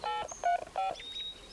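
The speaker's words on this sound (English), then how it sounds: "We'll call for help on my portable phone." A portable phone being dialed indoors: a quick series of clear electronic keypad tones, three main beeps with short gaps, loud and close, followed by a faint thin tone.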